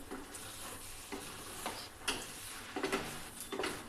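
A cooked kartoli vegetable dish is stirred in a pan, giving soft, faint scraping and tapping strokes over a low sizzle, close by, with no talking.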